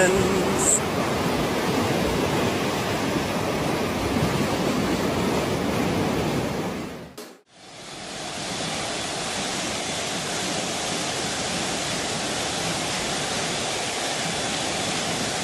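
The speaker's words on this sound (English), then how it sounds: "a forklift driver accidentally ruptures a high-pressure water pipe, leading to an immediate and powerful deluge that begins to flood the area" A ruptured high-pressure water pipe in a warehouse, struck by a forklift, releases a loud, steady roaring gush of water. It cuts off briefly in the middle, then resumes as a continuous broadband rush.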